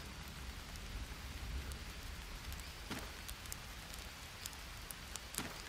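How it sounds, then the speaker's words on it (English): Steady rainfall in the jungle survival game Green Hell, a soft continuous hiss of rain on surfaces with scattered sharper drop ticks, quiet and unbroken. "Oh, it's fucking raining!"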